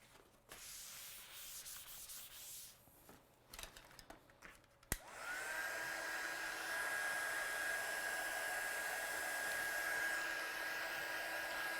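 A hair dryer drying a watercoloured stamped image starts up after a few seconds of light handling noise, then blows as a steady, close whoosh until the end.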